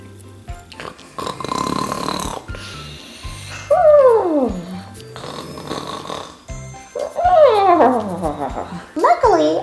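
A voice imitates loud snoring and growling, rising and falling in a few long drawn-out rasps with short pauses between them.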